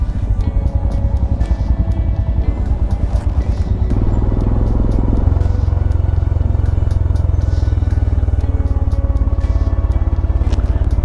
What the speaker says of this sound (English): So I am pillion with Kirti